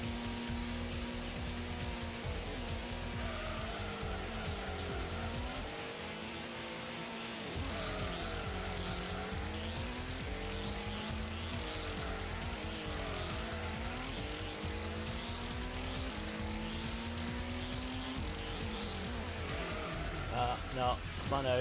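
Car tyres squeal as a car spins out in the 1997 PlayStation racing game Gran Turismo, over a steady engine drone, with someone talking across most of it.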